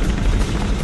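A steady low rotor-like rumble of a helicopter in the video game Mirror's Edge, loud and continuous, with no voices over it.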